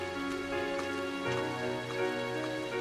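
Steady rain patters in the video game Trails of Cold Steel. It is a constant soft hiss with faint drips, laid under sustained musical tones, and no one talks.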